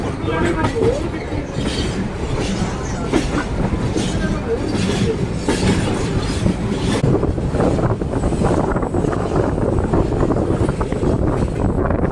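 A steady, loud rumble of a train rolling along the rails near Udhampur in Jammu and Kashmir, with faint rhythmic clatter and wind buffeting throughout, no clear pauses.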